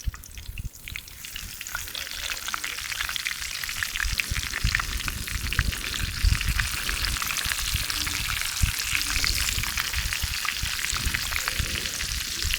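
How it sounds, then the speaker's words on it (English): Continuous loud sizzling and bubbling oil as a flour-coated whole chicken fries in an outdoor fryer, a dense crackling hiss running throughout with occasional sharper pops. "So next step is just to drop it into the fryer, and we should be good."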